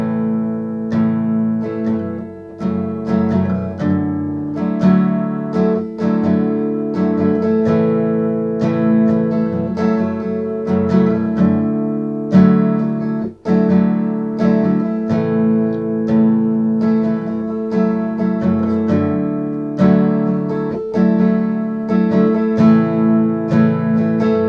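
A steady strumming pattern on guitar for a song, shifting between G and two other chords in the intro and verse, with rhythmic down and up strokes played alone, close and fairly loud.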